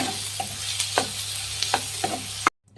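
Raw banana kabab manchurian stirred with finely chopped onion in a pan, a spoon scraping in several short strokes over a faint sizzle, close by, ending in a brief silence.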